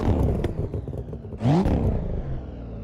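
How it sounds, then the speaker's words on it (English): A Volvo car engine in a video game revs up sharply partway through, a rising mechanical roar over a steady idle rumble, heard alone with no talk. "We've got a nice engine sound."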